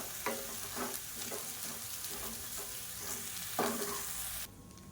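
Rice and chopped coriander leaves being stirred in a pan, with a steady scrape of the spoon against the pan in repeated strokes over a soft sizzle, close and moderately loud, before an abrupt drop to quiet near the end.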